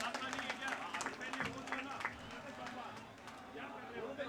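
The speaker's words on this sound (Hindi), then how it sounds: "दोनों हाथ ऊपर करके ताली के साथ में स्वागत अभिनंदन कीजिए प्रदेश अध्यक्ष जी का" A crowd at a political welcome event, the state president of the party's youth wing being received, claps steadily and loudly with scattered cheers, under a man's amplified speech.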